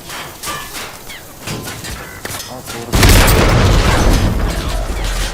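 An air raid in a video game lands with a loud, deep boom and a sustained rumbling blast, following scattered game effects and people talking in the background.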